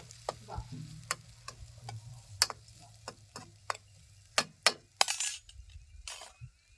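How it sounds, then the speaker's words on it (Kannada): Thick-cut onions frying in hot oil in a pan while cooking a dhaba-style chicken masala curry, with sharp clinks and taps of a spatula against the pan breaking over a low hum, close and moderately loud. "ಉಳ್ಳಾಗಡ್ಡಿ ಒಂದು ಸ್ವಲ್ಪ ಹಸಿ ವಾಸಿ ಹೋಗಂಗ ಫ್ರೈ ಮಾಡ್ಕೊಬೇಕು"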